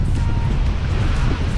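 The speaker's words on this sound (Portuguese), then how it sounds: "O vento tá brabo aqui" Strong wind buffets the microphone at Praia dos Anjos beach in Arraial do Cabo, a loud, constant rumbling roar with surf mixed underneath.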